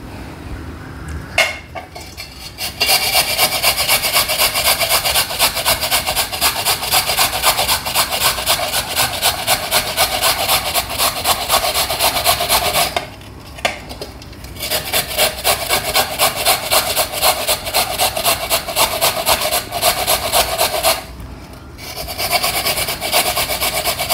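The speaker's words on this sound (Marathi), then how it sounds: "आता आपण गाजर केसून घेऊया।" A fresh carrot scraped against a metal grater, loud steady rasping strokes that run in long bursts with two brief pauses, close and alone without talk.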